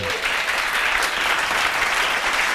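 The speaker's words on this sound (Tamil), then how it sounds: "கைத்தட்டுங்க ஒரு தடவை அவருக்கு" A church congregation bursts into applause during a sermon, a dense, loud, continuous clapping that fills the whole stretch.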